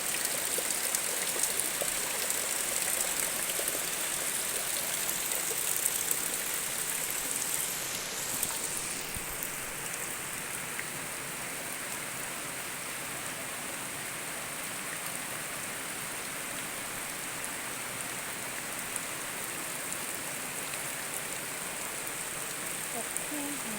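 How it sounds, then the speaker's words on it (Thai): Steady rain falls in a coffee garden, a soft even hiss of drops on leaves and ground continuing throughout, fairly faint and constant with no talk heard. "ฝนตก"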